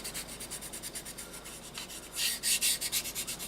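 A buffer stick rubs over the surface of a plastic model aircraft kit in fast, rhythmic scratchy strokes, quiet and close, growing louder and coarser toward the end, with no talking.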